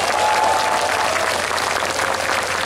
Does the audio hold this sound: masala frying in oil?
no